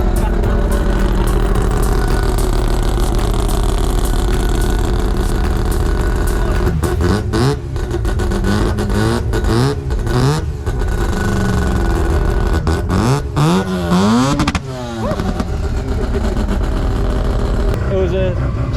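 A turbocharged burnout car at a Summernats burnout event idles loudly and close, rumbling heavily, then revs in several rising and falling sweeps, with people talking over it.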